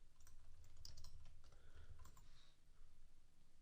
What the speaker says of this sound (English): let's type in Weight Watchers